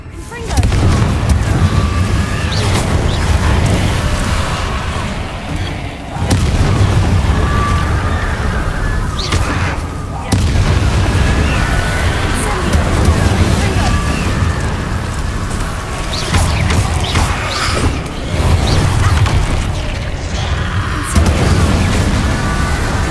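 Incendio fire spells cast over and over in Hogwarts Legacy, loud booming blasts and bursts rolling along with steady low rumble, while a voice talks over the action.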